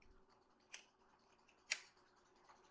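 Computer keyboard keys tapped sparsely while typing a web search, a few quiet, isolated clicks with a sharper keystroke near the end, faint and close.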